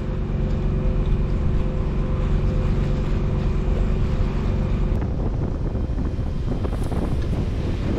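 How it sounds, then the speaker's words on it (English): Strong wind buffets the microphone on a boat entering the Green Bay shipping channel, a loud constant roar over a low engine drone and water wash, with no talking. "we get some wind just as we enter the Green Bay shipping channel"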